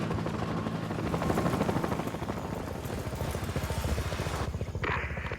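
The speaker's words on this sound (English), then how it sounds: "Hey, look! That's our chopper!" Helicopter flying in the video game Battlefield: Bad Company, a loud, steady rotor chop with rapid rhythmic beating throughout, mixed with game ambience and a brief higher tone near the end.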